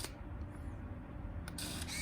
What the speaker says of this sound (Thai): ในโหมดชัตเตอร์บีแบบใช้แฟลชนะครับ